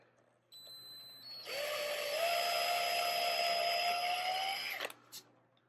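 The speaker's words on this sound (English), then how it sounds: "we're going to drill a little bit of a hole here" A power drill bores a small pilot hole into a wall for a helmet wall mount, a steady whine rising slightly in pitch for about three seconds before cutting off, with a brief click afterward.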